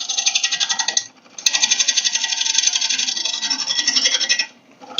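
A wooden bowl turning on a lathe, the gouge cutting with a rapid, pulsing rasp that pauses briefly, then resumes in a long continuous scrape before stopping again.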